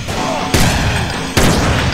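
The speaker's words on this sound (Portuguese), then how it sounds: "a arma que tem o tiro mais potente é a Desert Eagle" Desert Eagle pistol fire in GTA San Andreas, a SWAT versus army deathmatch mod: two loud, sharp gunshot bursts about a second apart, each with a booming onset over a continuous background of game noise.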